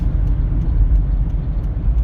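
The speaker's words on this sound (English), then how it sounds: "sorry, I'm driving." Steady low rumble of a car being driven, a continuous close road and engine drone with no talk over it.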